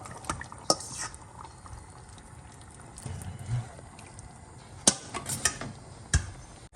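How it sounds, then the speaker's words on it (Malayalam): Tapioca being worked into biryani in a pan, giving soft stirring scrapes and a few sharp utensil clinks against the metal, close by and fairly quiet, with no talking. "ഞാൻ ഈ ഒരു സ്റ്റേജിൽ തന്നെ കപ്പയും കൂടി ആഡ് ചെയ്ത് കുഴച്ചെടുക്കാൻ പോകുന്നു"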